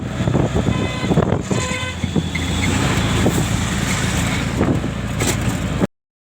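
An auto rickshaw arrives amid street traffic, a steady close motor rumble with brief horn toots and road noise, continuing for several seconds before stopping abruptly.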